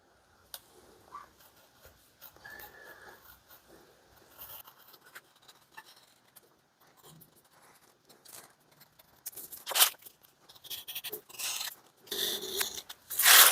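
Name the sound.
cutting leather with a blade for an axe mask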